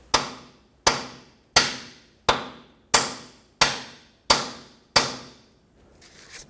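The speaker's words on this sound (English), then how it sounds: "take a hammer, and just tap this to hopefully break it free" A hammer taps a seized brake hose bolt on a 2000-2005 Ford Excursion: eight sharp metallic strikes at an even, roughly once-per-second rhythm. Each one rings briefly and decays, close and loud, with no talking.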